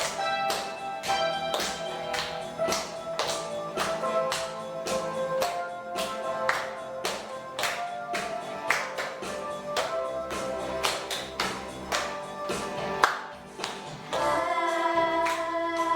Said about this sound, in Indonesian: Yuk sambil berdiri kita mau tepuk tangan